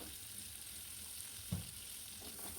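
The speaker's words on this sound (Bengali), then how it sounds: "গাজরকে কিছুক্ষণ বেজে নিচ্ছি" Carrots frying in a pan make a faint, even sizzle with one brief soft knock partway through.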